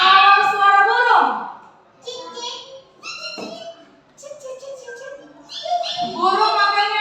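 Schoolchildren in a classroom imitate birds with short, high chirping and tweeting calls, scattered bursts from several voices with brief pauses between them.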